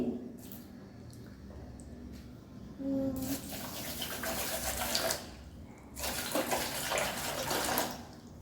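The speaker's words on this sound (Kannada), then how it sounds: "ಸ್ವಲ್ಪ ನೀರನ್ನ ಕೂಡ ಸೇರಿಸ್ಕೊಳ್ತಾ ಇದ್ದೀನಿ" Water is poured from a vessel onto sugar in a home kitchen to make syrup for gulab jamun, heard as two short splashing, gurgling bursts over faint room noise.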